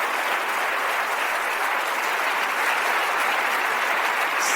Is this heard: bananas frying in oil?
no